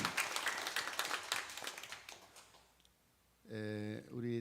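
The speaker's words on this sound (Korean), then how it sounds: "격려와 박수를 하겠습니다" A church congregation claps in applause during a Sunday worship service, a broad steady patter that fades out, followed by a short burst of sustained tonal sound at the end.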